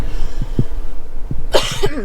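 Two distinct coughs, the first small and the second louder and harsher, with a short throat-clearing sound after.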